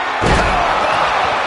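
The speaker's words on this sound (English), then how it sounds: "You heard the thud on the steps." A heavy, booming thud of a wrestler's body hitting steel steps during a wrestling match, landing amid loud crowd roar that carries on after the impact.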